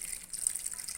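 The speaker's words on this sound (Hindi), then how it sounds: "ये वाला पानी डाल देंगे।" Water poured into a pot for homemade salted chips makes a faint, steady hissing gush, quiet and uninterrupted, with no voices.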